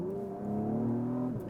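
The V6 engine of an Acura TLX Type S in Sport Plus mode gives a steady, loud, droning rumble that holds an even pitch, then cuts off abruptly near the end.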